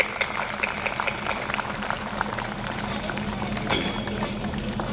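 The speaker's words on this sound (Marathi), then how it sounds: "सगळ्यांनी एकदा सर्व टीचर्ससाठी जोरदार टाळ्या होऊन जायला पाहिजे" An audience gives loud, sustained applause for the teachers at a school event, a dense, steady clapping that fills the whole stretch with some voices mixed in.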